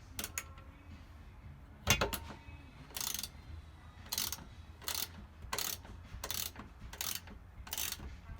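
A 3/8 inch drive ratchet turning on a tight fastener during a T-bar fix on a 2017–2018 Biggie, heard as about a dozen short, close clicking bursts in an irregular rhythm over a quiet background.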